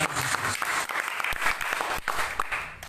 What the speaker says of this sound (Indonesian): Beri dulu tepuk tangan yang terbaik buat